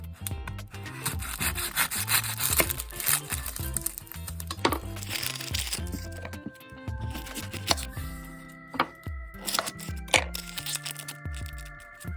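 A small onion chopped with a knife on a cutting board: steady scraping and rubbing broken by quick, sharp taps, close and fairly loud throughout.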